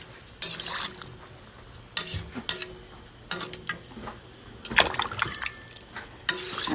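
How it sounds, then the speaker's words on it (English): Intermittent wet stirring and scraping in a pot of beef stew with a bay leaf, with liquid sloshing in short bursts separated by quieter pauses, close by. "You want to stir all that from the bottom too."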